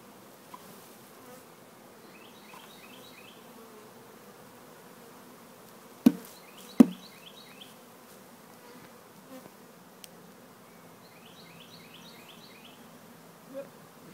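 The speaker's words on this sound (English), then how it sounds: "there's many bees in the air now" A honey bee swarm hums faintly and steadily during a swarm removal outdoors, a soft continuous buzz with a few sharp knocks and brief chirps, and no talking.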